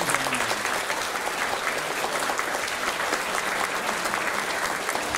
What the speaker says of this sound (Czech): Takže poprosím o potlesk.